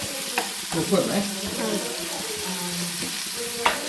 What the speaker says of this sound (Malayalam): ഇതെല്ലാം കൂടി ഇട്ടിട്ടുണ്ട് നമുക്ക് ഇളക്കി കൊടുക്കാം